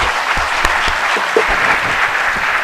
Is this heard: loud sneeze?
no